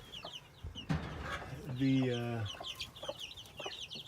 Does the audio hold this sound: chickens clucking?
yes